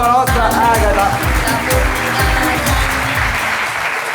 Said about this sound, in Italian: Un applauso alla nostra Agata.